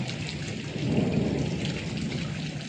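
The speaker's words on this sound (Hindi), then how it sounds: "बहुत तेज़ बारिश हो रही है" Steady heavy rain pours down in a dense, constant hiss onto a flooded road, with a low rumble beneath that swells slightly midway through.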